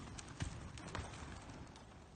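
Hooves of a ridden horse clip-clop softly in an even rhythm during schooling work, a few distinct thuds standing out over a steady background hiss.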